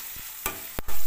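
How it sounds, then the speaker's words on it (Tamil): Spices for a brinjal dish hit hot oil in a pan with a loud, close sizzle that breaks into steady frying after a few quick stirring scrapes. "இப்போ பாருங்கள், நான் அதை தாளிக்கிறேன்."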